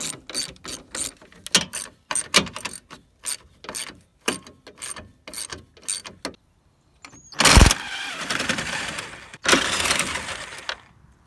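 Ratchet wrench clicking as bolts are loosened and removed from a car's front grille, several close bursts of rapid ratcheting separated by short pauses, followed by louder scraping handling noise.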